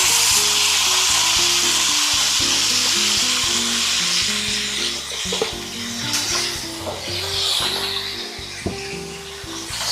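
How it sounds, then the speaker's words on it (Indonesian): Onion and chili sambal bawang Surabaya, a 30-portion batch, sizzles and fries steadily in reused chili-frying oil, with a constant loud crackle and occasional stirring scrapes throughout. "sambal bawang Surabaya 30 porsi saya goreng ya teman semuanya"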